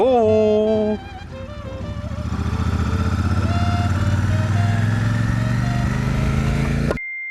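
A Royal Enfield Super Meteor 650 cruiser motorcycle is ridden, its engine giving a loud, close drone that dips and then climbs steadily in pitch before cutting off abruptly near the end.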